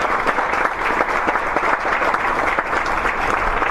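An audience applauds three panel speakers at a Republican political forum, a loud, dense and continuous round of clapping heard up close, with no voices over it.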